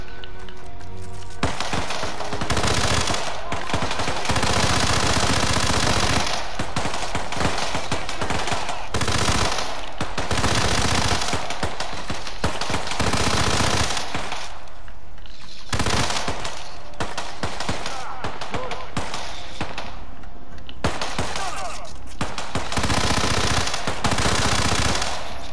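Gunfire in the video game Hitman 2 comes in loud bursts of rapid automatic shots, separated by short pauses between volleys.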